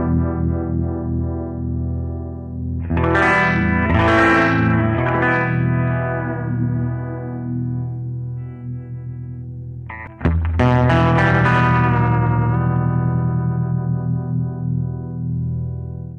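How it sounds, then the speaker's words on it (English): A Fender Pano Verb amplifier with stereo tremolo panning a guitar tone left and right, sustained chords pulsing in a swampy, wobbling rhythm with heavy reverb, loud and alone, two strummed chords ringing out in turn. "you've got this stereo image that has this swampy wah, wah, wah going back and forth with left and right"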